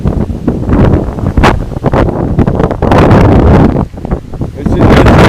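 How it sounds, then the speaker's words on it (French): Strong wind blasts across the microphone outdoors in winter, a loud, rough rumbling buffet that swells and dips without pause. "Bon, il y a un peu de vent, hein."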